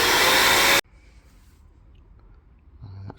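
A vacuum cleaner clears foam from inside a VW T4 Transporter 1.9 TD van under restoration, running as a loud, steady broadband roar that cuts off abruptly after under a second, leaving quiet rustling and a faint hum.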